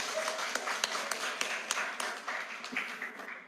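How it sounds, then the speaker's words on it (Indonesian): A small crowd at an Islam versus Christianity debate applauds the pastor with scattered, fairly quiet claps and a few sharper distinct hand claps, while voices murmur underneath. "Tepuk tangan untuk Pak Pendeta Muriwale."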